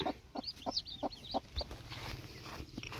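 A hen clucks close by in a steady run of short, evenly spaced clucks, with faint chick peeps and farmyard rustling around it.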